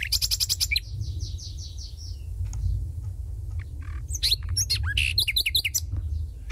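A common nightingale sings nearby in Romania, with rapid repeated notes, whistled phrases and sharp trills separated by brief pauses, over a steady low background rumble.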